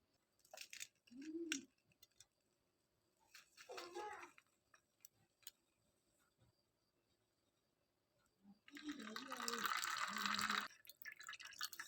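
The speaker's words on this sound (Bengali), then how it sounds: "তো এই তেলটাকে এখন আমি একটা ছাঁকনি দিয়ে ছেঁকে নেব।" Homemade oil for a cough and cold remedy is strained through a sieve. It drips and trickles in three short bursts separated by near silence, with the last burst the longest and fullest.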